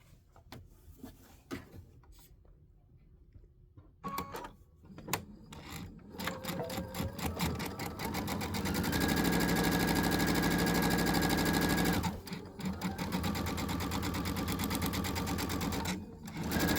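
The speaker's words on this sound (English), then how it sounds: "I'm just going to sew right off. Just a stitch or 2." A home sewing machine stitches a row of fabric, running in a steady mechanical hum with short pauses and start-stop bursts, loud and close with no talking.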